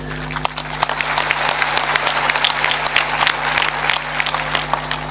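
Steady audience applause fills a hall during a talk on living happily, dense clapping from many hands continuing evenly throughout over a low steady hum.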